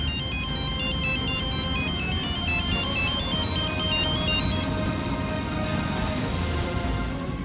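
A phone ringtone sounds while a call is being placed, a repeating electronic melody of bright alternating tones over a busy background score, steady and fairly loud for most of the stretch before fading into the music.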